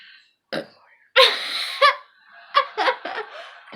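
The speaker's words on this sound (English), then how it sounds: "So this is like a burping challenge. Whoever can burp the best." Several wet, throaty burps in a family burping challenge, loud and close, bursting out one after another with short gaps, mixed with giggles and laughter.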